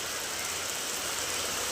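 Heavy rain pours on a village in a steady, dense hiss, a continuous wash of falling water with no pauses or voices.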